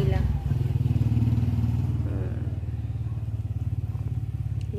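A motorcycle engine runs close by, a steady rhythmic thumping idle with a brief clatter, while a voice talks over it.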